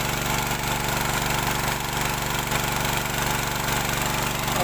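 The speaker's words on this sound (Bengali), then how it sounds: "জল সেচ করার জন্য যে নতুন মেশিন কিনলাম, পেট্রোল পাম্পের যে গতি দেখেন" A new petrol-powered water pump engine for irrigation runs steadily and loudly nearby, a continuous throbbing drone with a rapid, even pulse and no pauses.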